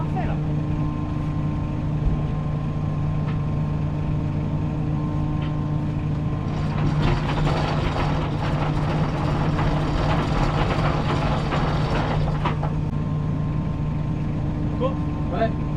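Boat engine running on a cruise off Majorca at Es Rajoli, a steady low droning hum throughout, with a louder rushing, churning surge in the middle before settling back to the idle drone.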